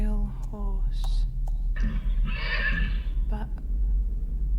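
A pale horse neighs in a few loud, high whinnying bursts close by, with faint hoof clops underneath and a steady low rumble throughout.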